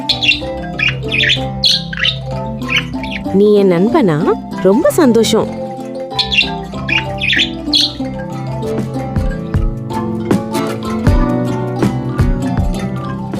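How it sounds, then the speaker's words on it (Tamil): A small animated cartoon bird chirps and squawks in quick bright bursts on an alien planet, mixed with children's-show background music while a narrator speaks in Tamil over it. "வாவ், ஒரு அழகான குட்டி பறவை."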